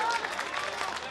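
Audience clapping in a crowd at a comedic poetry performance, a dense steady wash of applause that stays loud across the whole moment with no break.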